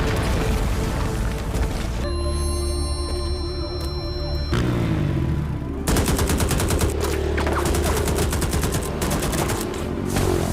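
Gunfire in a film shootout: loud rapid bursts and scattered single shots, with a ringing tonal passage partway through before dense automatic fire resumes.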